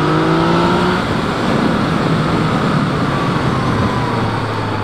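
A TDI diesel car accelerates past a Yamaha MT-09 motorcycle on a road, loud and close, with a steady rushing engine and road roar and a falling whine as it passes.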